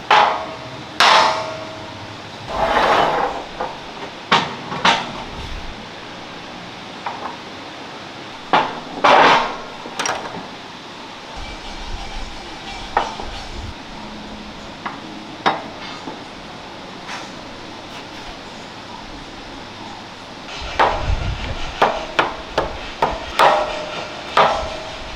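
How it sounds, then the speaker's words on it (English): Sharp metal hammer strikes ring out as a gear is driven onto a refurbished StuG III G tank differential, irregular clusters of loud close blows separated by quieter pauses and workshop handling noise. "Now we don't want to hammer this gear all the way in"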